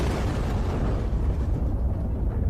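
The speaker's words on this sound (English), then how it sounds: "I have to give a special mention to the Demon Slayer explosion from the last season." Explosion from the Demon Slayer anime: a loud, dense roar of rumbling blast sound that fills the whole stretch, with heavy low-end boom and crackling debris texture, dying off slightly in the upper range toward the end.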